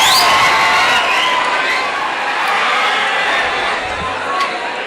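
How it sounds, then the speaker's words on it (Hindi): Mushaira audience in Dhule applauding and cheering loudly as a poet comes to the microphone, a dense, sustained roar of clapping and shouts that stays steady for the whole stretch. "पुरजोर तालियों से इस्तकबाल करें"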